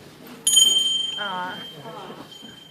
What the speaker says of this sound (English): When a bell rings, an angel gets their wings.